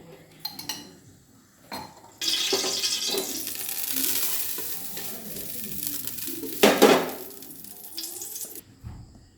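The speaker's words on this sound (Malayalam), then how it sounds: "പാത്രം വയ്ക്കാം." A pan holding a little ghee for vermicelli payasam clatters onto a stove with a few metallic knocks, then a steady sizzle rises, and another clunk of cookware follows near the end.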